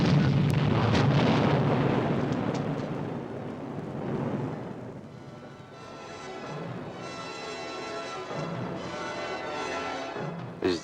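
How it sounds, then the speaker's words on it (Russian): Rock blasting for road building in the Kasarsky gorge beside the Ardon river: a heavy blast booms and rumbles, then dies into a long rolling roar and rattling debris that fades over several seconds. "Здесь и сегодня грохочут взрывы."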